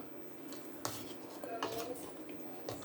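A metal spoon scrapes and clinks inside a pot a few times while making ulundhangali, fairly close and quiet, with faint background noise.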